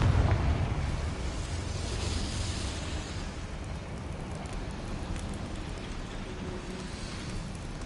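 A Confringo spell explodes in Hogwarts Legacy with a heavy, rumbling blast at the start that fades into a long crackling, debris-like roar, loud and sustained with no talk.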